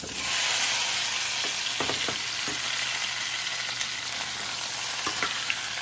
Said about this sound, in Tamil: பொரிஞ்ச உடனே அதுக்குள்ள இந்த மாங்காய் கட் பண்ணி வச்ச மாங்காயை போடுறேன்.